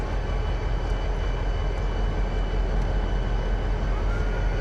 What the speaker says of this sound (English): I'm going to have to use the engine brake to slow us down